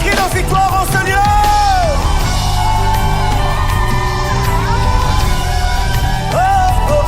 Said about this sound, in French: Des cris de victoire en ce lieu.